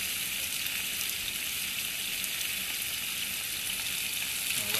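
New potatoes fry in a hot pan, a loud, even sizzle that hisses continuously up close without letup and with no one speaking.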